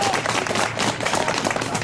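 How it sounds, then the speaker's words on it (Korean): Press conference audience applauding on cue: dense, steady clapping from many hands filling the room, loud and continuous with no pauses, over a faint undercurrent of voices. "자, 다시 한번 박수로 격려해 주시기 바랍니다"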